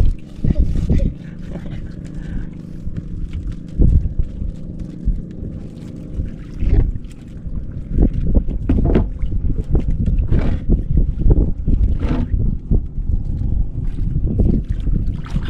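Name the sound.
amihan northeast monsoon wind blowing at sea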